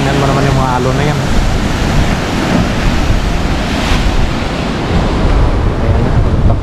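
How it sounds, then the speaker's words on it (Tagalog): Ocean surf at a shoreline lookout in American Samoa gives a steady, loud roar of breaking waves, mixed with heavy wind buffeting the microphone throughout. "Tingnan mo naman yung mga alon na yan."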